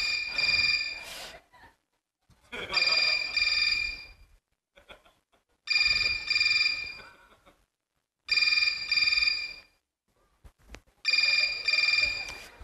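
A mobile phone rings with an incoming call, repeating a bright, loud electronic ringtone in five bursts with short gaps between them.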